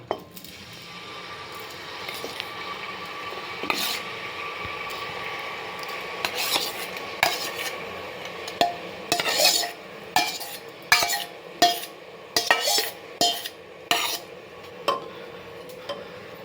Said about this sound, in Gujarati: એક મિનિટ માટે હું સાતળી લઈશ જેનાથી મસાલો અંદર બરાબર મિક્સ થઈ જાય